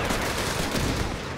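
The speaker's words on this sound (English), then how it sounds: "Taking small arms fire here!" Small arms fire rattles through a Company of Heroes 3 battle with the Afrikakorps in a four-versus-four match: dense, overlapping rifle and machine-gun shots in a continuous loud clatter.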